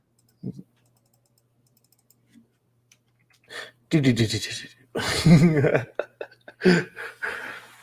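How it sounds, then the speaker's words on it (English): Computer keyboard keys clatter in quick bursts close by, mixed in with lively conversation and laughter from several people talking over the typing. "You can hear the keys go."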